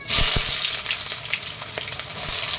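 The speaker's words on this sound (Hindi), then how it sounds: "देखिए, तेल गर्म हो गया है। इसमें मैं ये प्याज डाल रही हूँ।" Onions hit hot oil in a pan for a red chicken curry, an immediate loud sizzle that settles into a steady close crackle with a few pops and stirring clicks, with no talk.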